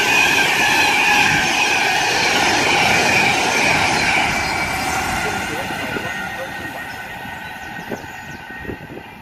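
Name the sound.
Pendolino train passing through station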